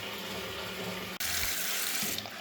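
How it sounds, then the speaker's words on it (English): Water rushes down a blocked toilet: a faint trickle first, then a sudden loud, steady gush of draining water that carries on to the end. "I don't really want to flush them lolly sticks."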